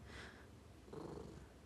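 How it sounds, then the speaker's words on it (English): A house cat purrs close by, a soft low rumble that stays faint and continuous for a brief moment in an otherwise quiet room. "Can you hear my cat purring?"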